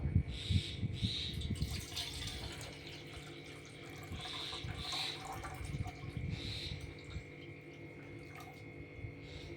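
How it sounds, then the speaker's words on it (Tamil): Water is poured out in preparation for making fruit kesari with semolina and sugar, giving a soft running, tap-like flow with faint drips that continues steadily in a quiet home kitchen. "இப்போ தண்ணி எடுத்துக்கலாம் ஃப்ரெண்ட்ஸ்."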